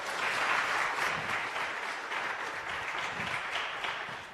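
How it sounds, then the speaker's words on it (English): An audience at a youth empowerment event applauds, a steady wash of many hands clapping that holds evenly and fades slightly at the end. "Let's give them a round of applause"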